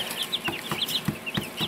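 Baby chicks in a brooder on an off-grid homestead peep in quick, high, repeated chirps that overlap at moderate volume, with soft thumps of movement beneath.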